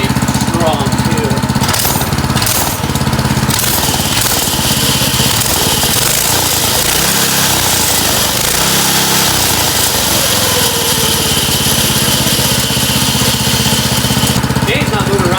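A Harbor Freight ATV engine idles loud and close with a rapid, buzzy, uneven chug that runs steadily throughout. Someone speaks briefly over it.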